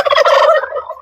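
A single loud, close turkey gobble bursts out briefly as farm birds are let out of their pen after a storm.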